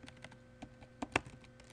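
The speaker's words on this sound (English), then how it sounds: "So what you're going to do is type in" Faint, irregular keystrokes on a computer keyboard as a terminal command is entered in Ubuntu, a handful of soft clicks with one sharper press near the end.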